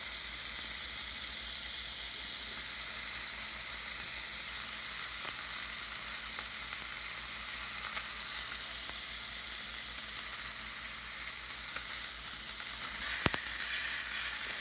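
Bacon frying chewy in a pan for breakfast, a steady close sizzle and crackle running the whole time with a few sharper pops near the end.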